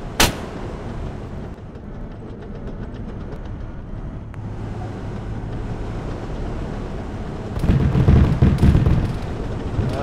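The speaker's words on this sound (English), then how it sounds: "Machine gun can still shoot fine." Tank-mounted machine gun in a video game, a low, continuous rumbling rattle of fire under engine drone, swelling louder in a heavy burst near the end.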